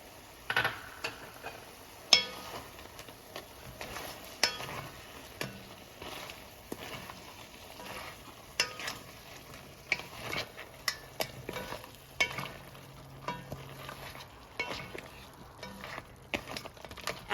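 Scallions and basil stirred into yellow curry crab in a pan, a quiet sizzle under scattered clicks and scrapes of a utensil against the pan, with no talking.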